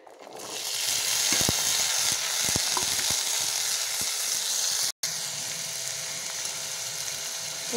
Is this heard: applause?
no